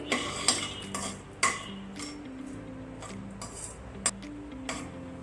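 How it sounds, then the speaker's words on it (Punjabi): Dry fruits being roasted on low flame for jaggery vermicelli, stirred with a metal spoon: repeated sharp scrapes and clinks against the pan over a faint steady sizzle, close by, with no talking. "ਲੋ ਫਲੇਮ ਤੇ ਹੀ ਆਪਾਂ ਡਰਾਈ ਫਰੂਟ ਨੂੰ ਭੁੰਨ ਲਵਾਂਗੇ"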